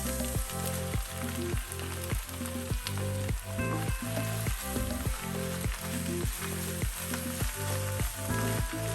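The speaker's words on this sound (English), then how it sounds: "So we're just cooking this until our spinach has wilted" Spinach wilting in a hot pan for Tuscan salmon, a continuous close sizzle broken by a regular rhythm of stirring strokes throughout.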